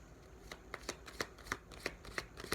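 Tarot cards are shuffled by hand in a steady, rhythmic series of soft riffling bursts, about three per second, quiet and close with no one talking.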